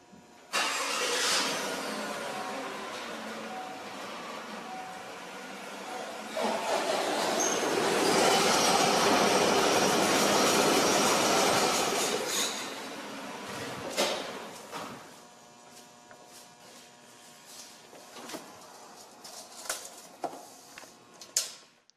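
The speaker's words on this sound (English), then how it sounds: "we're going to bring the truck forward 25 to 30 feet" A tracked military truck rolls forward on its momentum after being driven 25 to 30 feet, giving a rising clanking, squealing track roar that swells for several seconds, then fades into scattered metallic clunks and creaks.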